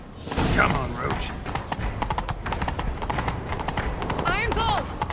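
Roach the horse gallops in The Witcher 3 with steady, close clip-clop hoofbeats, and a brief whinny sounds near the end, all under voices talking throughout.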